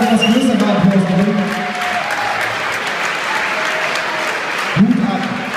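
Audience applause breaks out at a company Christmas party show, a dense burst of clapping that runs on steadily while voices speak over it at the beginning and again near the end.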